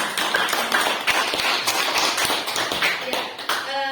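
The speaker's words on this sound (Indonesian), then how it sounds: "berikan aplaus dulu kepada kita semua" Audience applause at an Indonesian school presentation, a dense run of many hands clapping, fairly close and sustained for several seconds with no talk over it.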